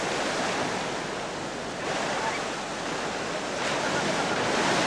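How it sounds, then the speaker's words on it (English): Strong wind and breaking waves at the port of Hadibo on Socotra, where northerly winds buffet the coast: a dense, continuous roaring wash with gusty surges, loud and close, with no talking. "The port of Hadibo is constantly buffeted by winds and waves from the northern quadrants."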